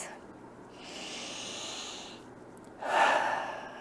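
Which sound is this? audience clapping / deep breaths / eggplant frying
deep breaths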